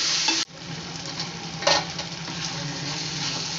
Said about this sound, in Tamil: இப்போ இஞ்சி வெள்ளைப்பூடு எல்லாமே நம்ம வந்து அரைச்சி போட்டு செஞ்சு வதக்கிட்டோம்